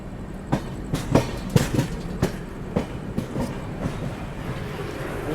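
The West Bengal Sampark Kranti Express runs at speed, its wheels beating a steady clickety-clack of sharp rail-joint knocks over a continuous low rumble, heard from on board.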